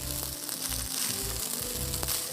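Butter rice with herbs sizzling as it is stir-fried in a pan, a steady hiss of frying with a low background hum, continuous and fairly close.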